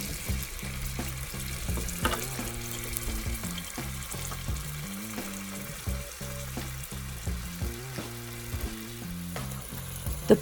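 Cubed beef sautéing in olive oil in a pan for grandma's beef soup, a steady close sizzle with stirring clatter and occasional utensil knocks throughout, no talking.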